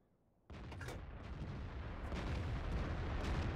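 Artillery fire in World of Tanks: a sudden heavy boom at about half a second, followed by a loud, sustained rumbling roar of battle noise that steadily builds in level, with no talking.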